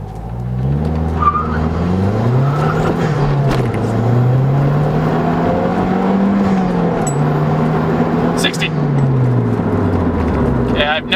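Mazdaspeed 3 tuned with a Cobb Accessport pulls hard from a standstill, engine note climbing loud and steady through the gears with brief dips at shifts, close and continuous throughout.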